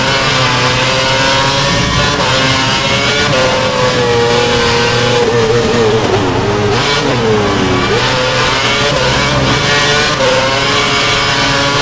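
Formula One car engine revving hard in the F1 2011 racing game at the Canadian Grand Prix, a loud continuous whine that rises and dips through gear changes, with another car close behind.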